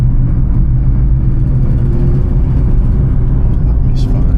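A stage 2 tuned BMW M240i with a custom engine and gearbox tune and a misfire, running as a loud, close, steady engine roar with no breaks.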